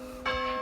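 A church bell rings out near the Old High Church in Inverness, a single sustained toll with bright ringing partials that swells in and hangs over a low outdoor hum.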